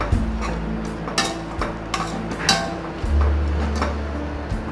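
Vegetables for soya vegetable biryani stirred and frying in a pan, with close scraping spoon strokes at irregular intervals over a low sizzle that swells louder partway through.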